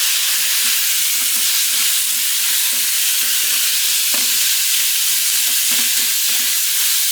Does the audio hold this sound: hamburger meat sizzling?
yes